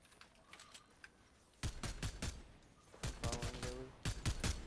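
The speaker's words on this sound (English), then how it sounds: "Yeah, I hear gunshots close by." Gunfire in the battle royale game Fortnite, sharp shots in rapid bursts and clusters that grow louder and closer partway through, with quieter scattered shots before.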